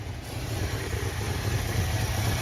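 A 1966 Plymouth Fury III with a 318 V8 idles steadily on its own, a low even rumble close by with no talk over it.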